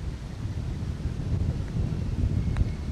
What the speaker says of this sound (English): this is windier than when we first got here